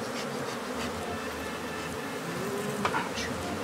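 Killer bees buzz in a thick, constant swarm drone close by, steady and loud throughout, with a brief faint voice near the end.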